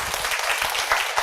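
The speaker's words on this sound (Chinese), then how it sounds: "那刚讲我们给主任鼓掌一下好不好？" A seminar audience clapping for the director, a brief burst of close, dense applause filling the room at a steady level.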